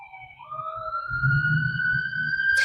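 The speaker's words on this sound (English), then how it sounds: "Confirmation with the sirens in the background." Emergency vehicle siren wailing steadily in a rising, sustained tone behind a muffled low rumble, moderately loud throughout with a sharp burst at the very end.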